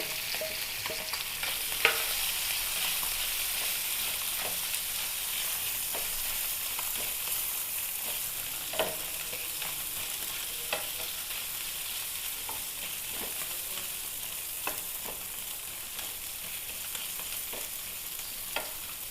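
Pallathi fish marinated in salt, turmeric, pepper and chili powder fry in a pan with a steady, dense sizzle and occasional sharp crackles and spatters close by.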